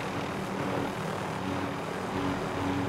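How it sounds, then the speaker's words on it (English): Steady aircraft rotor and engine drone from a helicopter in a video game, a continuous loud hum with a faint tonal whine that holds level throughout without pauses. "Is that a helicopter?"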